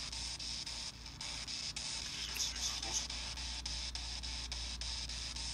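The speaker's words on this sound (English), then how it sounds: "Let's turn on the white noise." A white noise device runs during a spirit-communication session, giving a steady, even hiss of static with faint rhythmic pulsing and brief flickers, continuous and moderately quiet.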